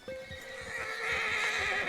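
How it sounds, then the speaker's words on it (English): A horse in the video game RedM on the WildRP server gives a loud whinny near the start, and clopping hooves continue beneath it, close up and with no talk. "Just got thrown off my horse"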